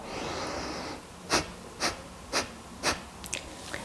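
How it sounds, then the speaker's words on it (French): Four forceful, evenly spaced bursts of breath expelled through the nose in Kapalabhati yoga breathing, close and clear over a quiet background, followed by a few softer sniffs. "vous allez expirer en soufflant par le nez relativement fort"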